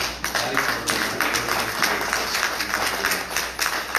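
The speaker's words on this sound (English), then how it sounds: "I want you guys to give yourselves a round of applause." A room of attendees at a public forum on economic growth and transportation, trade and utility corridors claps for themselves, giving moderate, somewhat uneven applause with distinct individual claps throughout.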